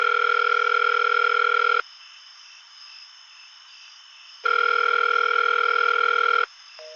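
Telephone ringback on an operator-placed call to a Murray Hill number, two long steady electronic ring tones separated by a quiet gap, clean and moderately loud with no voices.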